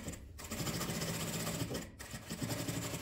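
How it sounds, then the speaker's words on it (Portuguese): A sewing machine stitches a thermal kitchen apron with a steady, close mechanical whir, pausing briefly twice before resuming its even rhythm. "Vamos costurar."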